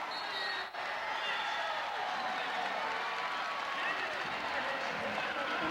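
A crowd at a men's volleyball match against Long Beach State cheers in a steady, loud roar that fills the whole stretch, with an announcer talking over it.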